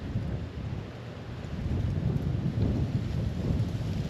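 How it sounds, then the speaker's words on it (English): Strong wind buffets an outdoor winter fishing spot in Florida with a loud, continuous low roar that swells slightly, with no talk. "Oh my gosh, this wind is ridiculous."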